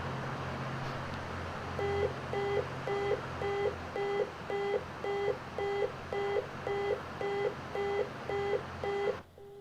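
A Cessna 337 Skymaster cockpit alarm in X-Plane 12 beeps repeatedly in a fast, regular pulse over steady engine drone, running for several seconds before it cuts off abruptly.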